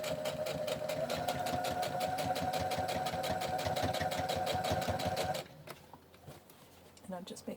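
A sewing machine stitches a bear foot pad for a Charlotte bear in a steady, rapid mechanical rhythm for about five seconds, then stops, leaving quiet handling noises.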